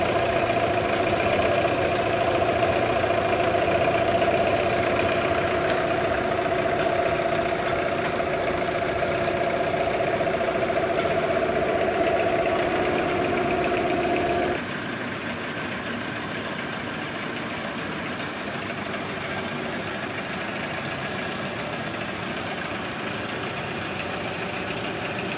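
A warmed-up Yamaha 9.9D outboard motor idling, a steady close mechanical drone with a faint tonal hum, which shifts to a slightly different running note about halfway through.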